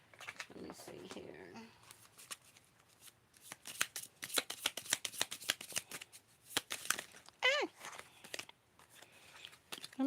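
Tarot cards are shuffled by hand in quick, crisp riffling bursts and soft slides, close and fairly quiet, with pauses between rounds.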